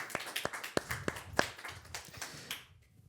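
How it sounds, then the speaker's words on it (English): Small group applauding a submission at an awards event, sparse, uneven individual claps close by, with distinct separate hand strikes tapering off to quiet at the end. "Give a round of applause for Bo's submission"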